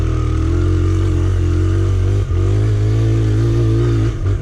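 A Honda CRF100F dirt bike engine running steadily nearby, a loud continuous mid-pitched drone with a buzzy exhaust note and brief dips in the throttle.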